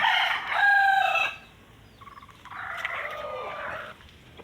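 Roosters crow at a small backyard poultry farm, two long cock-a-doodle-doo calls in a row, fairly close and clear, with a brief pause between them and no talking.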